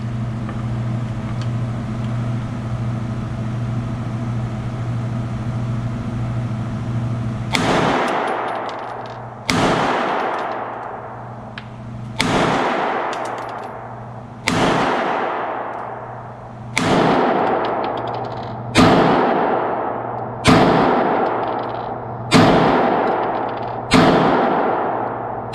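Eight sharp gunshots ring out from a Smith & Wesson M&P 2.0 pistol fitted in a CAA Micro Conversion Kit, fired off a rest at steady intervals of about two seconds, each crack loud and close with a short ringing decay, after a low engine-like hum.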